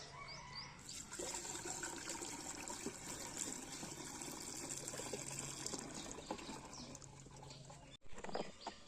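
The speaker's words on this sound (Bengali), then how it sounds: "এবার জলটা ভরে নিই" Water gushes steadily into a container for spraying medicine on marigold plants, a close splashing fill lasting several seconds that cuts off abruptly, followed by a brief clatter.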